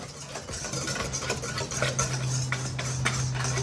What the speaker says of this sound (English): We just got 2 cups of flour and also 2 teaspoons of baking powder. And then we're just gonna whisk that together.